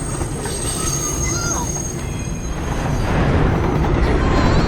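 A train rumbles along with a loud, high metallic squeal of wheels braking, the grinding noise swelling toward the end.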